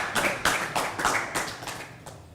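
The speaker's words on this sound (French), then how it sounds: "Est-ce qu'on peut applaudir pour juste parfait" Audience applause for a comedian on a TV talk show, heard as a few separate hand claps in an uneven rhythm that fade toward the end, fairly close and sparse rather than a full crowd.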